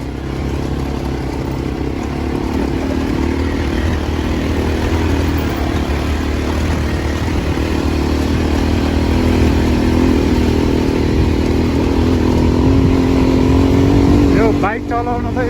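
A motorcycle engine hums and revs steadily, loud and close, over the constant rumble of road traffic on a ride near Lalitpur, with people talking over it and a brief horn-like tone near the end.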